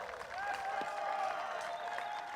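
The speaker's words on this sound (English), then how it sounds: "Crowd loving that." A crowd at a disc golf tournament round in Des Moines applauds and cheers an ace, a steady wash of clapping and voices heard from a distance across the course, with a commentator talking over it.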